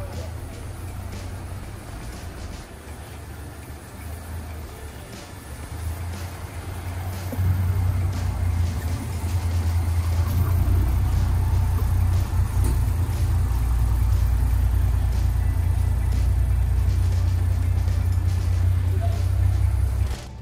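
A classic car's engine idles and rumbles steadily as it is moved into a large private collection of classic and racing cars at a museum in Tennessee, a low continuous drone that grows louder partway through.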